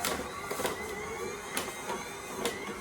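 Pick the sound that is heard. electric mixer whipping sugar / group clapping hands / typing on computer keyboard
electric mixer whipping sugar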